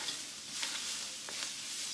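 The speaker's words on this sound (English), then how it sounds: "you just kind of stir them around. You want to get that nice sear on them." Vegetables searing in a pan while being stirred, a faint, even sizzle with a few light scrapes and clicks of the utensil across the surface.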